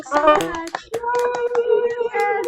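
A few scattered, sharp claps pop out over several people talking and cheering on a video call, sounding thin and slightly compressed.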